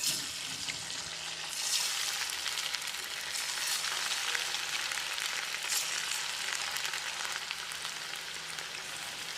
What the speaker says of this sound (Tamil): இப்போ இதை எண்ணெயில் பொரிச்சு எடுத்துடலாம்